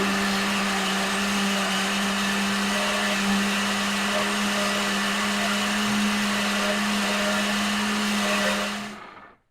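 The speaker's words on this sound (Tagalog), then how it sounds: "At ating simulan na sa blender." A blender whirs steadily and loudly for several seconds with a constant motor whine, then cuts off at the end.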